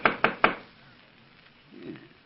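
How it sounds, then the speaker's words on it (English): Three quick, evenly spaced knocks rap on a cabin door in an old-time radio drama, sharp and close, followed by a faint muffled thud and quiet. "We will knock before we go in."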